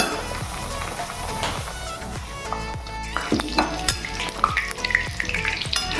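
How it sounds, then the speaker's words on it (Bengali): Potatoes frying in oil, a dense close sizzle with bubbling crackle, overlaid by repeated scraping and stirring in the pan that grows busier and clatters toward the end. "আলু ভেজে দেখাচ্ছি।"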